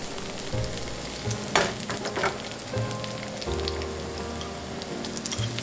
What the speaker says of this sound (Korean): 마늘이 약간 노릇하게 변하면 매운맛을 추가하기 위해 페페론치노 5알 정도 넣어주세요.